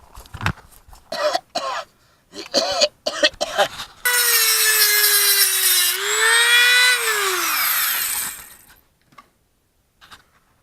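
A Dremel rotary tool cuts through a part packed with yellow filler, giving a loud, high-pitched whine for about five seconds that dips in pitch under load and then stops. Short bursts of scraping and handling noise come before it.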